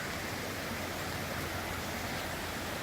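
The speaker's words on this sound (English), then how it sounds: "right through here, you can see running water. And it's flowing pretty good." Flood water from Indian Creek rushes across a road, a steady dense broadband roar that stays loud and unbroken throughout, with no voices.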